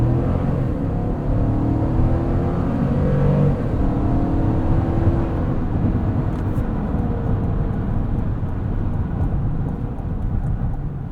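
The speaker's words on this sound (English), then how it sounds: "Let's do a little 0 to 60 and we'll test out this Bose sound system. Ready and go." 2023 GMC Yukon Denali Ultimate SUV with a 6.2L V8, in sport mode and four-wheel-drive auto, accelerating from 0 to 60 mph: a steady, fairly loud engine and road rumble with the engine note faintly rising, heard from inside the cabin.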